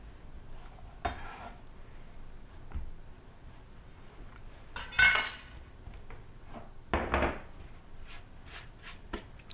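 A knife cuts slices of bread into cubes for croutons in a home kitchen, giving scattered bursts of crunchy cutting and light clinks of the blade on a board or plate, fairly close, with no talking.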